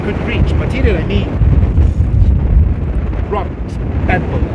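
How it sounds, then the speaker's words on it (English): Volcanic explosion on Mount Etna, with a deep, sustained rumbling roar and wind buffeting the microphone, while a voice speaks faintly over the low blast. "when we have these double speed of sound explosions"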